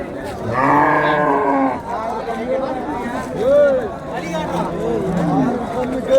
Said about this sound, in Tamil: அருமையான ஒரு காங்கையன் கண்ணு ஒன்று நிற்கிதுங்க